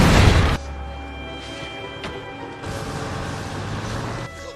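A heavy boom bursts out at the start of a ship explosion scene in a film, then drops to a low rumbling aftermath with a brief crack near the middle and a swell of noise later.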